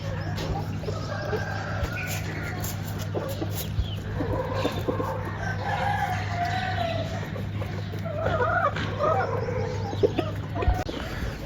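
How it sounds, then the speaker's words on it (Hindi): Roosters cluck and crow intermittently in the background over a steady low hum, with early-morning village farmyard ambience throughout. "अभी भी कुछ मुर्गों की आपको पीछे आवाज़ें आ रही होंगी"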